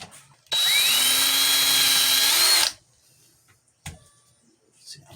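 A power drill drives a screw into a 3D printed cosplay prop: one sustained whir lasting about two seconds that rises slightly in pitch before cutting off, followed by quieter handling clicks.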